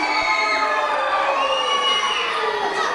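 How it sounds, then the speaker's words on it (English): A wrestling arena crowd cheers and shouts in a steady, fairly muted roar that never swells into a big ovation, with children's voices mixed into the din. "You can't even cheer properly for your two heroes."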